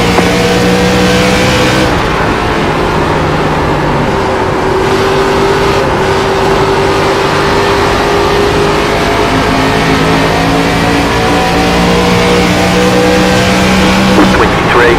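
ARCA race cars racing at the Iowa track, a loud continuous engine roar with sustained droning tones that shift in pitch as cars hold speed, close and unbroken.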